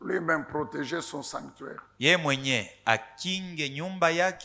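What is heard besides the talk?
None of the usual background noises is heard.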